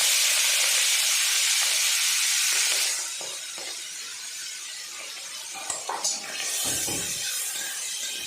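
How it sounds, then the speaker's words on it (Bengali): Prawns frying in well-heated oil give a loud, steady hiss for about three seconds, then a quieter crackle continues with a few sharp clinks and bursts near the end. No one speaks. "এবার আমি দিয়ে দেব চিংড়ি মাছ। চিংড়ি মাছটা হালকা করে একটু ভেজে নেব।"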